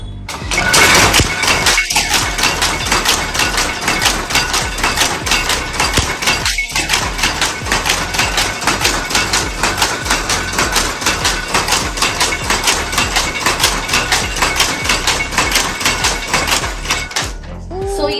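Power loom weaving machine in Sirisilla starting up and then running, a loud close rhythmic clatter of rapid repeated mechanical knocks that holds steady throughout.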